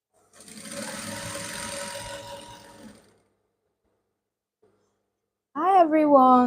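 A sewing machine back-stitches the center seam of a trouser, a short close burst of steady mechanical whirring lasting a couple of seconds, followed by silence and then a person speaking.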